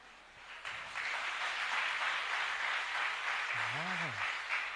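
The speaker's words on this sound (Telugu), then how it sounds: "Please don't clap." An audience in a church meeting claps together in a steady, moderately loud burst of applause that swells and holds, with a voice briefly heard over the end.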